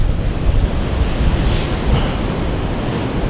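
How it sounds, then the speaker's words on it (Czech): Large ocean waves break on the wide, nearly empty beach at Nazaré, Portugal, in a steady, loud roar of surf with heavy wind buffeting the microphone throughout. "Tak jsme dorazili do Nazaré na ty ohromné vlny se podívat"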